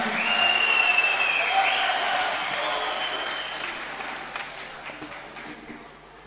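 Audience applause at a Yeniden Refah Partisi provincial party congress in Sakarya: a dense, steady wash of clapping from a large crowd that holds for several seconds, then gradually thins and fades, with whistles and crowd noise mixed in.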